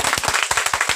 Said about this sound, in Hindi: तो चलिए एक बार डॉक्टर अंबेडकर साहब से एक बार जोरदार ताली हो जाए इनके नाम पर